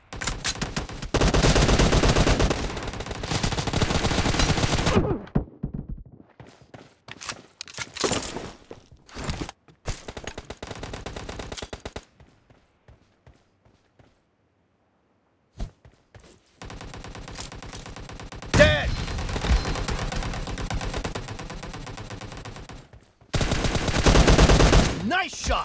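PUBG team deathmatch gunfire, loud bursts of automatic rifle fire cut into separate volleys with brief silent gaps and scattered single shots.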